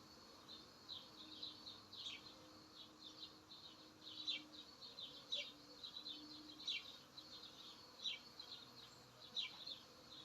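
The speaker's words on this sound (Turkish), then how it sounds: "Artık köpek sesi, arı sesi idare edeceğiz." A faint, low buzzing of honeybees drones on in the countryside during honey harvest, with soft bird chirps rising and falling at intervals over the quiet outdoor background.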